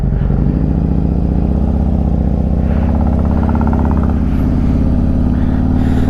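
A Harley motorcycle engine rumbles steadily up close, its low throttle note rising slightly as the bike is put into gear and pulls away, with no talking.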